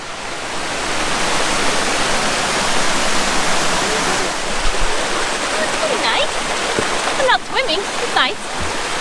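Water rushes steadily down the Table Rock natural rock slide, a loud broadband wash close by, with people talking over it toward the end.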